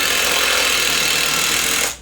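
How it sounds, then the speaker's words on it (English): Power tool buzzing steadily at close range for about two seconds while bolting parts onto a robot built to stop overeating of Halloween treats, then cutting off abruptly. "Let's get this bolted in."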